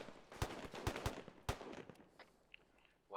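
Gunfire in the military video game ARMA 3 cracks out as several sharp, separate shots within a few seconds, fairly close and alone, with faint chatter afterward.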